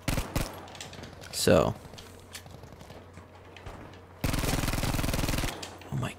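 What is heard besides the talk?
Type 2a weapon hip-fire gunfire in video game Battlefield V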